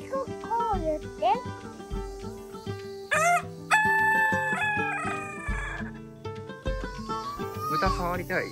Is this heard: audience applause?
no